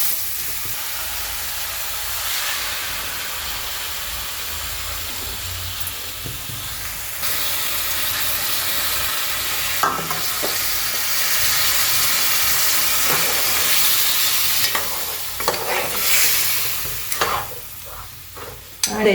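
A masala base for a fish curry simmers in a pan with tamarind water, giving a continuous sizzling, bubbling hiss with occasional scraping stirs. No one speaks.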